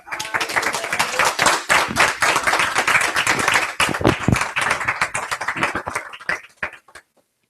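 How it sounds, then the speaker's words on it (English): An audience gives sustained applause for session presenters at a talk on substance abuse in the Hispanic-Latino community, dense clapping holding loud for about six seconds before thinning into a few scattered claps and fading out. "if we could give a rounding applause for our"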